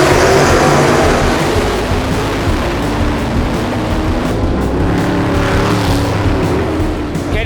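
Race cars at speed, with the number 16 car accelerating hard, a loud, dense engine roar that stays close and sustained while other cars blend into the drone.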